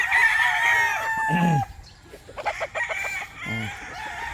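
A young gamefowl stag fresh out of a breeding pen crows loudly and clearly near the start, then gives a few shorter clucks and calls, close by with no talk.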